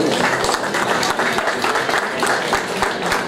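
Loud, dense applause from a crowd at a youth sports race award ceremony honoring the winning under-16 boys' team, sustained and even from start to finish, with a voice faintly underneath.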